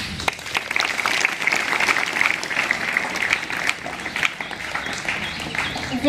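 An audience claps at a World Hindi Day celebration, a sustained burst of dense applause from a sizeable crowd that stays loud and even throughout.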